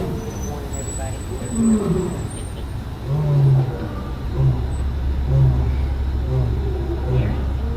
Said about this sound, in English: Oh, the lion's roaring. Can you hear it?